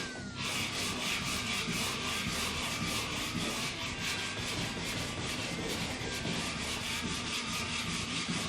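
A 3D printed radiusing block sands the fretboard of a 1974 Les Paul during a refret, giving rapid steady back-and-forth abrasive strokes in a continuous rhythm, close and even.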